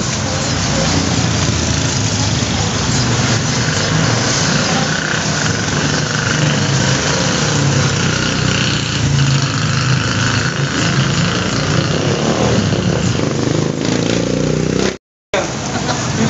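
A motorcycle engine runs steadily at close range, a continuous rumbling drone that cuts off abruptly near the end before resuming briefly.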